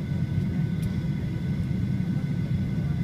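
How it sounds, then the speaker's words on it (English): Airplane at a New York City airport, a steady low engine rumble that stays close and constant, with no talking. "another airplane."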